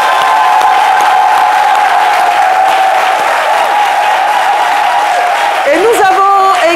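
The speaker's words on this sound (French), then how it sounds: "j'aimerais qu'on les applaudisse encore plus" An audience applauds steadily at a live International Women's Day broadcast in Côte d'Ivoire, a loud, sustained wash of clapping that holds throughout before fading near the end as a voice begins.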